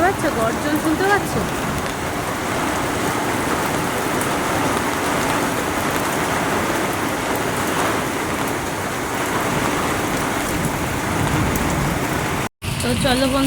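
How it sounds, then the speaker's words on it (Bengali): Heavy rain falling hard and continuously, a thick, close hiss of drops on surfaces. It stays even throughout and cuts out for a moment near the end. "দেখেছো কেমন বৃষ্টি পড়ছে।"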